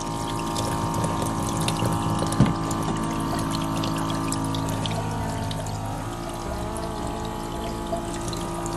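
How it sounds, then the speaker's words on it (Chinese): Water runs steadily from a tap as a 14-month-old toddler washes hands at a sink, a loud continuous stream with a faint mechanical hum underneath and one brief knock partway through. "来洗手。"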